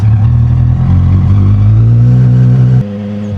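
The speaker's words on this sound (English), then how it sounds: "Now let's take the car out for a spin and see how they feel." A Mazda Miata fitted with a Honda CBR1000 motorcycle engine idles and revs with a loud, steady, buzzing drone close by. The engine note drops off sharply near the end.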